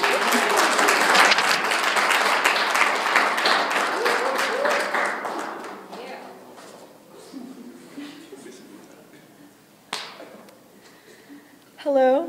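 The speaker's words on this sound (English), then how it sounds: "Clap." Audience applause at a student collective's final showcase, a crowd clapping loudly at first, then thinning and dying away into scattered room noise, a few claps and a brief voice near the end.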